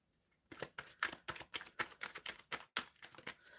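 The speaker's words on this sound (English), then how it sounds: "I'm shuffling to clarify the 10 of Cups." Tarot cards being shuffled close up: a quick series of crisp riffling and slapping bursts in a regular rhythm, quiet overall and alone, following a brief near-silent start.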